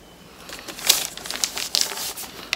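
Brown paper bag crinkling and rustling as it is opened, a run of crisp crackles with a few sharper tearing bursts, fairly close and with no talk over it.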